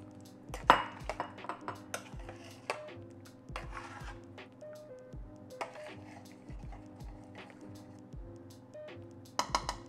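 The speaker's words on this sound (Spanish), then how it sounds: "A la hora de agregárselo hay que mover muy bien porque se puede pegar abajo de la olla" Yellow mushroom mole (Oaxaca style) being stirred in a pot as it is added: repeated clinks and knocks of a utensil against the pot, a few ringing pings and wet squishy stirring, fairly quiet with sparse spaced hits and a cluster at the end.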